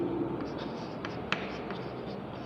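Chalk or marker scratching on a board during a physics lecture on work and energy, a faint steady scribbling with a few sharper strokes over room hum, no talking.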